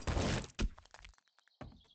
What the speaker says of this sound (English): I just heard glass breaking